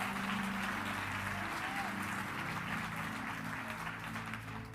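A church congregation clapping for the Lord, a broad continuous wash of applause held at a steady, fairly quiet level for a few seconds over a low sustained tone.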